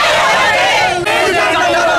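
Congress party protesters crowd outside the Sadar SDPO office, their shouted slogans merging into a loud, steady roar of voices close by, with only a brief dip midway.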